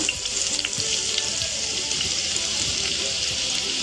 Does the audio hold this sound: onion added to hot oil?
yes